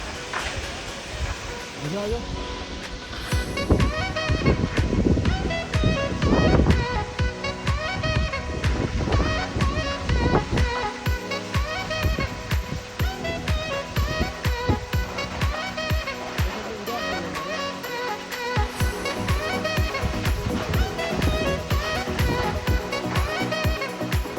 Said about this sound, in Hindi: ये है जी वसुधारा वाटरफॉल